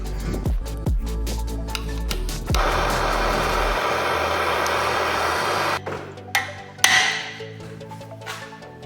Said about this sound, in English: Blowtorch.